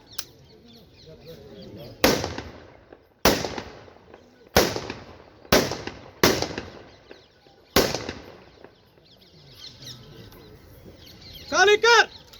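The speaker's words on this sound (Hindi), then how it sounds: "दाहिने से फायर" A ceremonial rifle salute at a funeral cracks out as six sharp, loud reports spaced about a second or more apart, each trailing into a short echo, with commands called between shots and birds chirping near the end.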